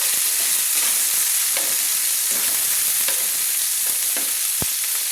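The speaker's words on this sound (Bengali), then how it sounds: "টমেটোটা গলে যাওয়া পর্যন্ত আমি নেড়ে নেব।" Chopped tomato sizzles and fries in hot oil in a pan while cooking a vegetarian Bengali ol kopi dalna; steady broadband frying hiss with occasional soft stirring scrapes and one sharp utensil tap near the end.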